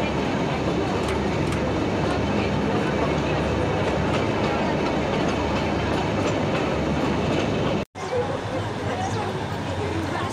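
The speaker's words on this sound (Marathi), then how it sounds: "ट्रेन टर्न होतानाचा व्ह्यू आहे." A slow train runs and rounds a curve on the Matheran hill railway, giving a loud, continuous rumble and rattle of carriages close by, with clicking wheels and a brief dropout near the end.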